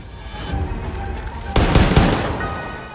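Video game gunfire from Far Cry 5's zombies DLC: a quick burst of rapid shots, then a louder, denser volley midway, close and sharp with no talk over it.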